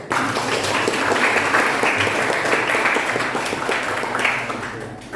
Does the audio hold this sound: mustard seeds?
no